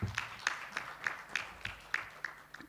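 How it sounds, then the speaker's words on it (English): At an Oxfam Uganda strategy launch event, a single pair of hands claps in a slow, even rhythm, about nine sharp, distinct claps close by with quiet room tone between them. "Can we give another big round of applause"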